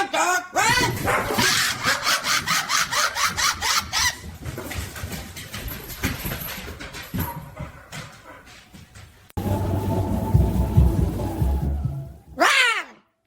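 A dog runs and barks in a quick string of loud, rhythmic barks at first, then the sound thins out to scattered noises before a louder rush of activity and one last burst at the end.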